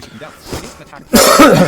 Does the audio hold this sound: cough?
yes